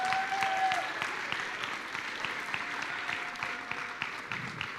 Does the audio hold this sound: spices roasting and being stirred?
no